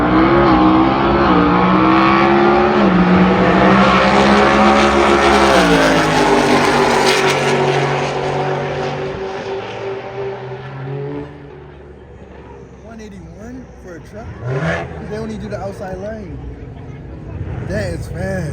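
A Goauto Nissan R35 GTR accelerates hard at a roll race event, its engine loud and rising through the gears for several seconds before fading into the distance, with crowd voices and talk following.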